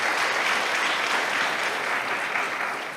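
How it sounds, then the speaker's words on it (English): Steady, dense applause from a church congregation at a Unitarian service, filling the space loudly and evenly for the whole stretch and tapering only slightly at the end. "Yes, you can applaud that"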